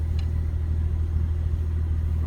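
A warmed-up 1951 Ford two-door sits idling, its engine giving a steady, close, low rumble with an even throb and no voices.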